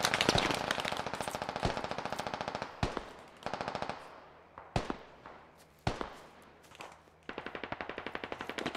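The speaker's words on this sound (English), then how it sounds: "Machine gunner on the bunker." Rapid machine gun fire in the Squad military video game, long rattling bursts broken by short pauses and a few heavier single booms, fairly close and loud with no talk over it.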